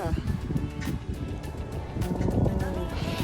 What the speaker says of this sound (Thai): ลมก็พัดนะคะเย็นก็เย็นนะคะ